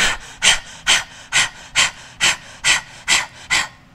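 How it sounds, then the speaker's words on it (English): Fast fire-breathing exercise through the mouth: about nine sharp, forceful breaths come close up in a steady quick rhythm, evenly spaced, roughly two per second, with no talking over them. "you wanna do like 10 to 20 seconds of fast breathing"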